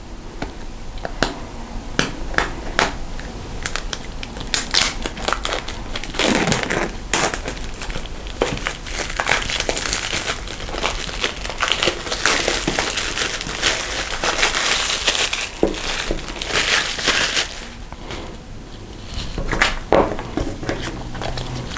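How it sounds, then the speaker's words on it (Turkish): Plastic shrink wrap crinkles and crackles as it is peeled off a Redmi Note 11 Pro phone box, a close, busy run of sharp snaps and rustles lasting about twenty seconds with no talk. "Arkadaşlar Redmi Note 11 Pro'nun jelatinini söktük"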